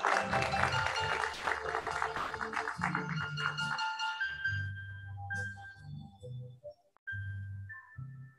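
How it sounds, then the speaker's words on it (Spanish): Audience applause at a school graduation ceremony, a dense burst of clapping for the first few seconds that thins out, followed by sparse chiming tones and low musical notes. "Le damos un fuerte aplauso."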